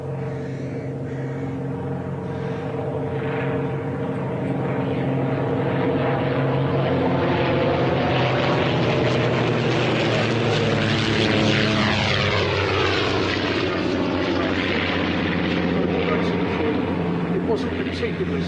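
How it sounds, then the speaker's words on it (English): Comet racing aircraft powered by two 230 horsepower Gypsy Six propeller engines on a runway, a loud, steady multi-toned engine drone that swells and shifts pitch as it passes, continuous throughout. "the Comet's powered by two 230 horsepower Gypsy 6 engines, giving it a top speed of around about 238, 240 miles an hour"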